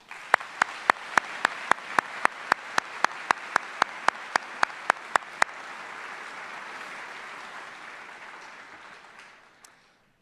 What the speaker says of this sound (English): Let's give a round of applause for the folks on the floor.